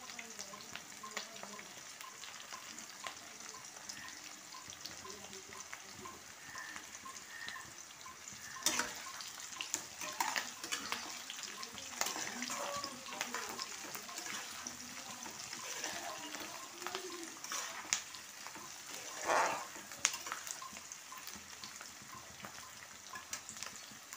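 Chopped garlic frying in a pan for dry chilli chicken gives a steady close hiss of sizzling oil, with occasional louder crackles and light clinks of stirring.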